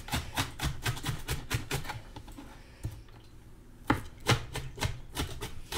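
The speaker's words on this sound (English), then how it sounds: "Well, I'm just chopping onions." A kitchen knife chops onions on a cutting board, giving rapid, sharp, close knocks in uneven bursts with a short pause in the middle.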